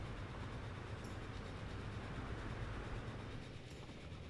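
Train in Transport Fever 2, heard as a continuous low rumbling rail roar with faint rhythmic clatter, steady and moderately close.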